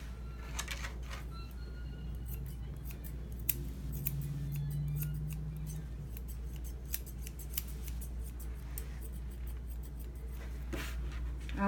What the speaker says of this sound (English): my scissors are not super duper sharp, they're a little dull